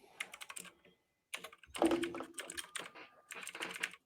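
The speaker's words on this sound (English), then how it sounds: "Now I'm just typing here." Someone types on a computer keyboard in quick bursts of close key clatter, broken by a pause of about a second, with the rattling tapping then resuming in uneven runs.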